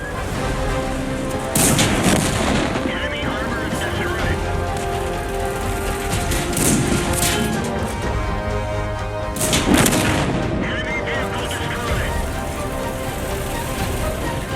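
Tank cannons fire in the World of Tanks video game, two heavy booming blasts several seconds apart over a constant rumbling battlefield bed, with a voice talking over it.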